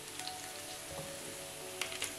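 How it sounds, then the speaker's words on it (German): Onions sautéing in a little hot oil over medium heat for a vegetable curry sauce, a steady soft sizzle with faint crackles and pops, alone with no talk. "dafür ein bisschen Öl erhitzen und Zwiebeln hinzufügen. Und auf mittlerer Hitze andünsten."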